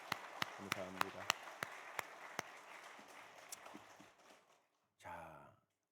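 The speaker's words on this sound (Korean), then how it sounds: "우리 박수 한번 할까요?" A church congregation at a New Year dawn prayer service claps, with a series of sharp, evenly spaced claps standing out over speech and fading after a few seconds, followed by a short burst of talking.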